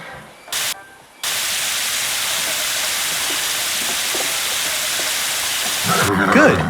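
Shower water running over a horse in the video game Saddle Up, a steady broad rushing spray that starts after a few short choppy bursts and carries on evenly, with a brief higher sound near the end.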